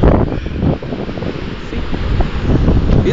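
Surf at a Newquay, Cornwall beach, with a broad rushing roar of waves heavily buffeted by wind noise on the microphone, loud and continuous with uneven swells.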